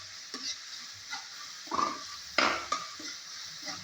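Bagoong shrimp paste frying in a pan while a spoon stirs it, with a steady sizzle and several distinct scraping strokes, close and fairly loud, no talking.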